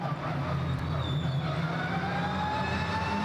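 Porsche race car passing on the Estoril circuit during a Porsche Sprint Challenge Southern Europe round, its engine a steady, fairly distant drone with a faint rising whine, no talk over it.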